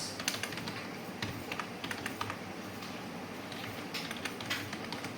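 Steady typing on a computer keyboard, soft rapid key clicks in close, quiet bursts with brief pauses, alone without talk.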